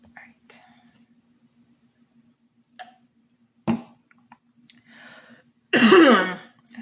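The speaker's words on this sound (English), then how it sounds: "sorry for all these coughs" Quiet ticks and faint clicks scattered across a near-silent background, then a loud rough cough near the end.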